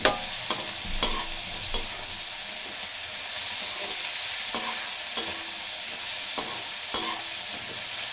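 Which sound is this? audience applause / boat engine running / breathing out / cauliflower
cauliflower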